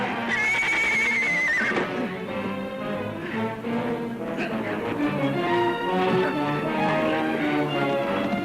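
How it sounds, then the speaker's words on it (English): A horse whinnies loudly at the start with a rising-falling neigh, followed by busy hoofbeats and movement as it runs off, dense and close throughout the scene. "Your horse ran off."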